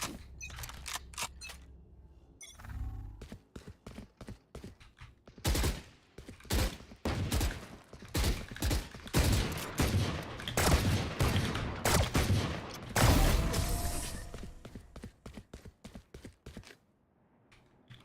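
Rapid gunfire bursts in a Valorant match rattle in dense, loud volleys and scattered single shots, building to sustained fire in the middle before tapering off, with no talk over it.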